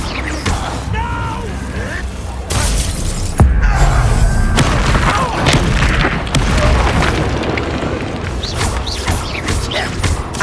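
Incendio fire spell cast during a Hogwarts Legacy battle, a sudden whooshing burst followed by crackling, booming combat noise and breaking debris, with voices calling out in the fray.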